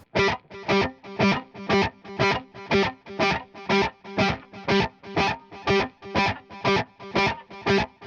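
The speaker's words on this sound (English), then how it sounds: "the sticky picky is going to look and sound something like this" A guitar string is picked in a fast, steady down-up rhythm, each stroke short and muted with a slightly gritty, distorted edge.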